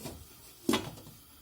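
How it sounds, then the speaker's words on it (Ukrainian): A single short clunk of a lid set down on a pot, fairly close, with a quiet background before and after. "і прикриваю я кришечку"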